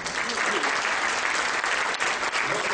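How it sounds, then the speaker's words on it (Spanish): A church congregation claps together at an evangelical convention in Camaná, a dense, sustained round of applause filling the whole moment at a steady, fairly loud level. "Un aplauso al Señor"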